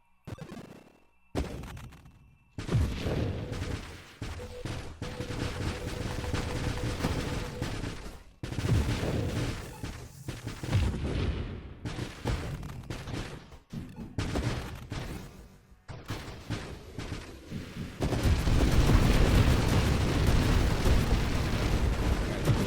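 Repeated heavy blasts and bursts of booming video game explosions in Nova Drift, loud and close, with rumbling stretches between them and a sustained roar near the end.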